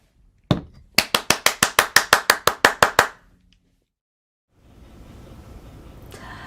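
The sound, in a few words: clapping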